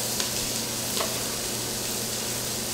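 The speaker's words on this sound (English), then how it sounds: "Add the rest of our onions in there." Onions sizzle steadily in hot oil in a stainless steel pot, a dense, even frying hiss with a couple of faint stirring scrapes, heard close and alone.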